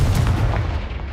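A Confringo blasting spell explodes in the Hogwarts Legacy video game, a single loud, booming blast that fades quickly.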